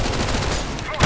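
Bursts of rapid gunfire crackle in a Counter-Strike: Global Offensive match, loud and close, with a heavier blast at the very end of the brief moment.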